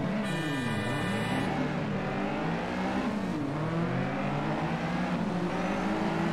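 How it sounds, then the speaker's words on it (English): A racing car engine in the video game Need for Speed: Shift drones steadily with a high, wavering transmission whine rising and falling above the roar, continuous and fairly loud. "That whine on the transmission."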